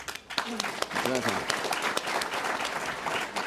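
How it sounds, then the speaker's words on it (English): Audience applause at a panel discussion on school funding fairness, a steady patter of clapping that carries under brief voices and chatter throughout. "round of applause for"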